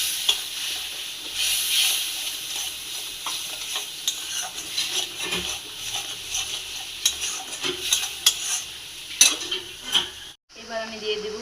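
Ginger paste fries in hot oil in a pan for a fish curry, a loud close sizzle with frequent spoon scrapes and clinks against the pan, ending with a brief drop to near silence.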